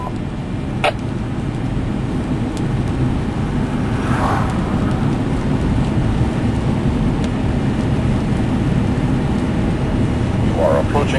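A strong storm with heavy rain and thunder during a tornado near Electra, Texas in April 2008: a loud, steady roar of rain with a low rumble that runs unbroken throughout, plus a few brief sharper cracks.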